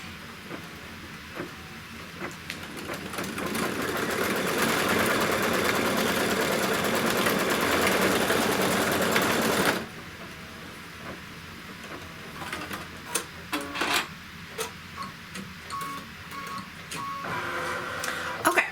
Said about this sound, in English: what it's going to stitch next is just a little tack down to hold this